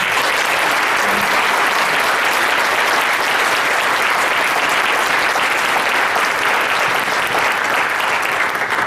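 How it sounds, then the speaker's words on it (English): A large audience at a school winter celebration gives a full, steady round of applause, dense and loud from start to finish with no voices over it. "make sure you truly give them the round of applause that they deserve"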